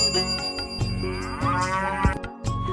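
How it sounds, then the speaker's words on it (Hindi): Cattle moo in a village lane, several drawn-out, close calls following one another, with a bell ringing briefly among them. "गलियों में गायों के रंभाने की आवाजें सुनाई दे रही"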